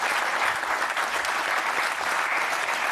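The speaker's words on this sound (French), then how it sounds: "Applaudissements pour elle." A studio audience at a French television talk show claps in dense, sustained applause that holds steady from start to finish, close and loud, with no voices over it.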